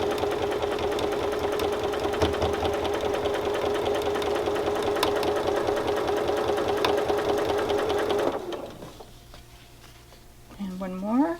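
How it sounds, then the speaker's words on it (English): A sewing machine stitches a quarter-inch seam along a quilt block, running steadily and loud for about eight seconds before stopping, followed by quieter handling sounds. "We're going to sew those. Once again, we're just sewing on the 1/4 inch line."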